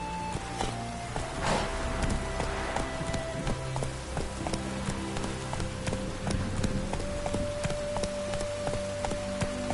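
Roach, Geralt's horse in The Witcher 3, galloping with steady rhythmic hoofbeats that run continuously at close range under in-game music tones.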